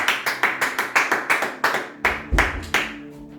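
A church congregation claps in a lively, regular rhythm of about a dozen sharp claps that stay close and loud, then trail off near the end with no talk over them.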